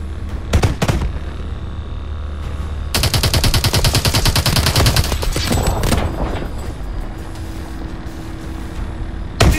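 Rapid automatic gunfire from Call of Duty: Advanced Warfare, Biolab mission, arrives in loud bursts: a couple of short volleys, then a long sustained stream of rounds, with scattered shots and rumbling between.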